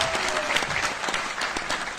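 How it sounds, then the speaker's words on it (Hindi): An audience at an Enagic Kangen Water business presentation in India applauds in a dense, even patter of many hands, steady and moderately loud throughout. "इतनी कम तालियों से मजा नहीं आएगा"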